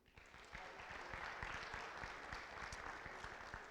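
A small panel audience applauds warmly to welcome a newly sworn-in board member, steady clapping that starts abruptly and holds evenly at a modest, slightly distant level throughout.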